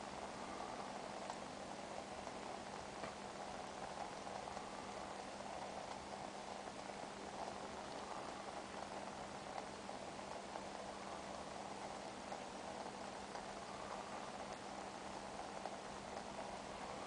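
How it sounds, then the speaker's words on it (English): Water boiling in an uncovered Sierra Cup over an alcohol stove at sea level, a steady, close hiss of bubbling with a constant roar, unchanging throughout and with no talk. "And there's no lid on the Sierra Cup, so it's just boiling."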